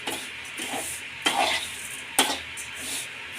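Beaten rice (avalakki) being stirred in a pan, soft scraping and rustling with two sharper clinks of the spoon against the metal, close and fairly quiet.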